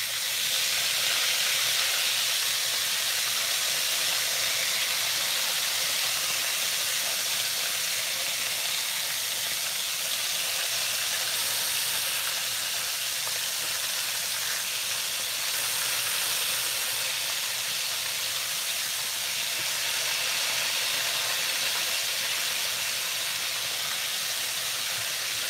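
Pork chops frying in a pan, a loud steady sizzling hiss that holds constant and close throughout with no talk.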